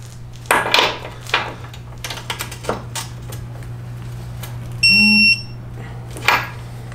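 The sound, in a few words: digital torque wrench beeping while torquing BMW inner ball joint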